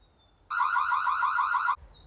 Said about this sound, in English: It's also got an alarm that I can play.